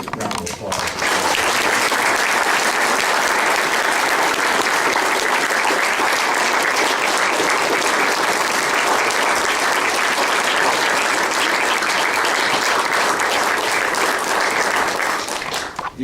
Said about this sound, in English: Let's give all of our veterans of Vietnam War a great round of applause